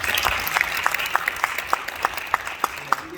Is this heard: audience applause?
yes